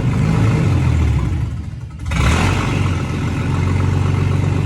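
A Ford BA Falcon engine runs with no exhaust fitted, a loud, raw, rumbling drone close by that dips briefly as if nearly stalling, then picks back up and holds steady.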